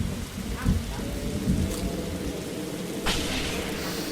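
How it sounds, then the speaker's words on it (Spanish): Thunder strikes during a rainstorm in the Roblox game 99 Nights in the Forest, a sharp crack landing about three seconds in over steady, loud rain. "Le acaba de caer un trueno encima al niño"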